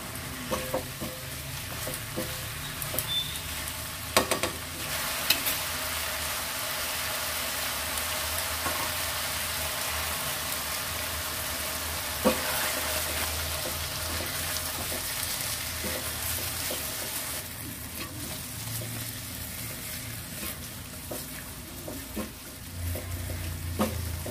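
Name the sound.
stirring curry frying in a pan after adding yogurt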